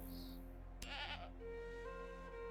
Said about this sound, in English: Oh, goats can live in the flowers.